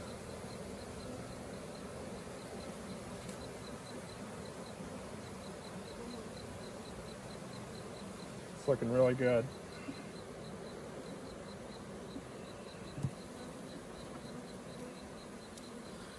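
A packed honeybee colony in a Layens gable roof forestry hive holds a continuous, vibrant drone throughout, close and steady, while someone speaks briefly over it midway.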